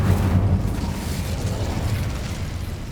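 Incendio fire spell cast in the Hogwarts Legacy video game: a loud, roaring burst of flame that rumbles steadily for about three seconds with little let-up.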